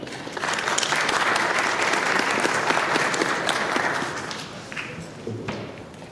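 An audience at a tech product launch applauds to welcome a presenter, with full steady clapping that swells and gradually fades into scattered claps and a few thuds.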